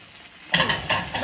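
Scallion pancake frying in a pan, with a quiet moment giving way to a loud, close burst of crackling sizzle and stirring scrapes.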